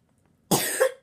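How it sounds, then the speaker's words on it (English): One sharp, close cough bursts out loudly, a brief rough rasp ending in a short throaty tail, with silence before it. "I'm not going to try and hold back my cough anymore."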